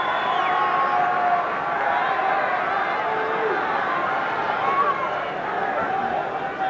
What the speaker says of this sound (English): the biggest crowd ever for a rugby match here in Canberra